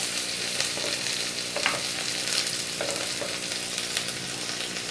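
Chopped onions fry in a pan with a steady, close sizzle and faint crackle, punctuated by light scrapes and clinks of stirring.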